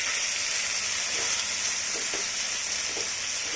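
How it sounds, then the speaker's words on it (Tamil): Chopped tomatoes and garlic paste sauté in a pan for a Tamil salna, giving a continuous loud sizzle with a few faint stirring clicks underneath. "பூண்டு விழுது, இதை சேர்த்து நல்லா வதக்கிக்கலாம் பச்சை வாசம் போகிற வரையும்"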